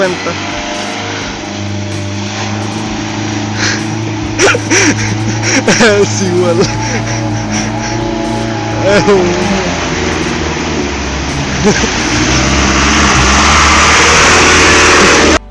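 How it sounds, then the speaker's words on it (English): An Isuzu truck fords a flowing river, its engine droning and revving steadily with rushing water beneath, under music and a brief spoken voice. "take a close look at this Isuzu truck as it makes its way across a flowing river"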